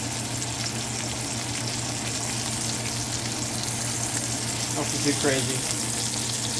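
A filet mignon sears in a hot cast iron skillet, a steady close-up sizzle and crackle throughout, with a brief burst of louder popping near the end and a person speaking briefly over it.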